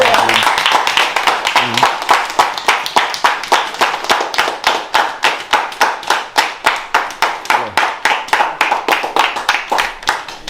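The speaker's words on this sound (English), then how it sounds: "We get a round of applause." A small group claps steadily for about ten seconds in thanks for two donated barrels at a Trench Town, Kingston community gathering, with even, close, rhythmic hand claps and a few voices murmuring underneath.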